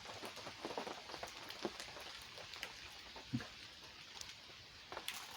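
Rain patters on a tent at a woodland campsite, a faint, steady drumming with scattered heavier drops tapping close by.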